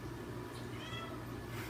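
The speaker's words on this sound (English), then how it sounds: "My cat's meowing." A hungry house cat meows around feeding time, a faint, continuous call set low in a quiet indoor room.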